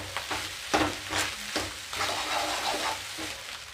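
Egg fried rice frying on high flame: a steady, loud sizzle with scraping stir strokes and occasional sharper hits throughout, close and continuous with no talk.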